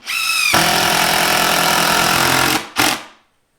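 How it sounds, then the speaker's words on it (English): A power drill driving a couple of screws into the wood of a folding router table: two bursts of loud, close motor whine, one long run of about two seconds and then a brief second pull. "we are just going to go ahead and run a couple of screws into it"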